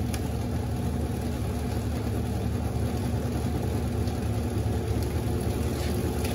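A Panasonic 14 kg washing machine spins continuously without stopping, giving an even, unbroken droning whir with a steady low rumble throughout.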